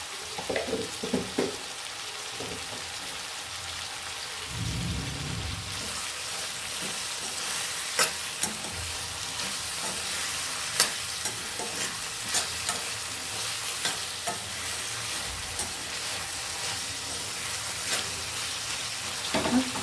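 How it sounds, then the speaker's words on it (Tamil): Onions sautéing in a pan with rock salt, stirred continuously: a constant loud sizzle runs throughout, broken by scraping stirs and small knocks from the spoon, with no speech. "இது நல்லா வதங்கி வரட்டும்"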